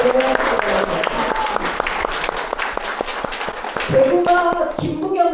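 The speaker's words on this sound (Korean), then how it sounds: "동의하신다면 큰 박수 우리 이정표에게 보내주시기 바랍니다" Close, lively audience clapping at the opening of a mayoral candidate's campaign office in Yeongcheon, with distinct individual claps and voices in the crowd mixed in, building into a louder burst near the end.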